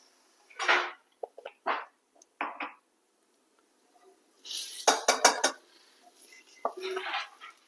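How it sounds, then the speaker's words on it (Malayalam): A metal spoon clinks and scrapes inside a pot, mixing turmeric, chili powder, coriander powder and garam masala for a beef curry, in short bursts of stirring and knocks, close and crisp with quiet gaps between. "ഇതിന്റെ പച്ചമണം പോകുന്നവരെ ഒന്ന് മിക്സ് ചെയ്ത് കൊടുക്കാം"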